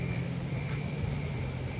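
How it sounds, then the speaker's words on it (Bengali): A waterfall among hills near a mountain guest house in Wologai, Ende, Indonesia sends out a steady, even broadband rush that fills the scene without a break. "আপনারা জানি না ঝর্ণার আওয়াজ শুনতে পাচ্ছেন কিনা, রীতিমতো ঝর্ণার আওয়াজ"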